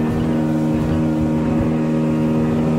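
A Taimen LX 3400/3600 motorboat planing, its engine droning steadily at speed, a constant close hum with rushing wind and water noise.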